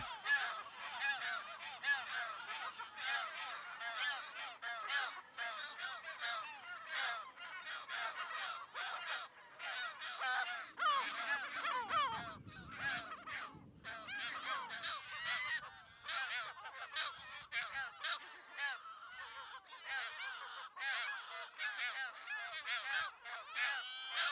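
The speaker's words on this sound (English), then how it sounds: "the yellow-legged gulls are never far away" A colony of yellow-legged gulls on Menorca calls continuously, a dense chorus of overlapping harsh, honking cries at moderate distance, with a brief low rumble partway through.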